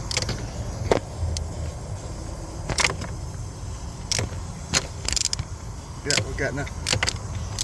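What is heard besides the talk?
3/8 drive ratchet undoing turbo bolt on Ford Transit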